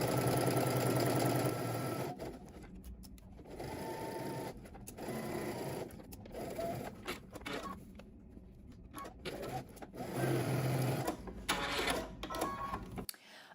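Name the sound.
sewing machine stitching a seam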